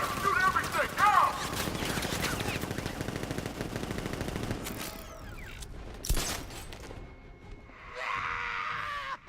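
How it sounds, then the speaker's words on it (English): Video-game gunfire as guards open up: sustained rapid machine-gun bursts with scattered single shots and mechanical clatter, a shout breaking through, then a brief lull before a distant burst of noise. "Guard! Open fire! Shoot everything!"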